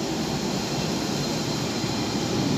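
Loud, steady rumbling roar of a Central line train rushing past close by through a station without stopping, a continuous broadband whoosh with no breaks or voices.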